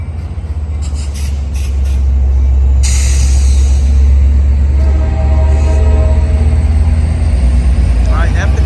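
Amtrak San Joaquin passenger train #718, led by an F59PHI locomotive, pulls out of Oakland Jack London Square station with a steady low engine rumble and rolling noise, fairly loud and constant, while someone talks intermittently.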